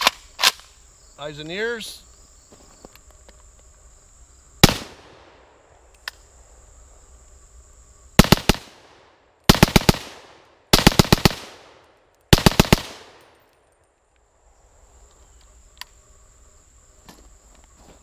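Sharp gunshots fired semi-automatically, in clusters of quick reports with gaps between, loud and close outdoors, with a brief spoken line and faint insect chirping beneath.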